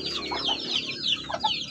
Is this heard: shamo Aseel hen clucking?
yes